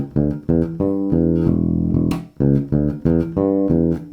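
Funky electric bass riff played without ghost notes, clean separated notes in a syncopated groove with one longer held note midway, close and unaccompanied.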